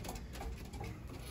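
Racing pigeons coo softly inside their loft, a faint low murmur of calls with light shuffling and patter close by.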